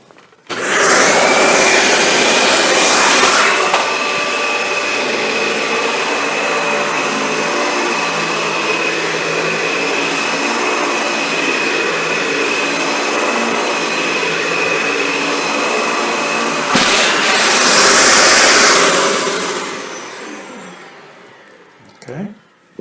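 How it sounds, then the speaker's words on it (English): Dyson DC65 Animal and Cinetic vacuum cleaners run on carpet with a loud, steady motor whine and airflow roar, marked by a brief higher surge near the start and another near the end before the sound winds down. "we're going to run the DC65 Animal, again against the Cinetic, see how they perform on the pet hair"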